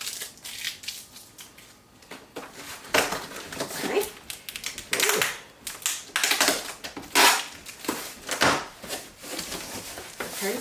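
Crinkly tearing and scraping of a juicer's cardboard box and packaging in irregular bursts, close up, with handling noises throughout.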